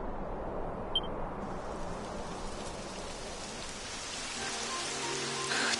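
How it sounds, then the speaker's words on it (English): Rain begins in the video game Dragon Quest XI, a soft continuous patter of drops that holds steady, with a small electronic blip near the start and faint game tones toward the end. "It would have to go and start raining, wouldn't it?"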